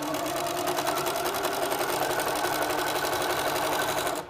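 A Little Rebel sewing machine stitches steadily through quilted half square triangles, its fast even motor whir and needle chatter running close and continuous before stopping at the end.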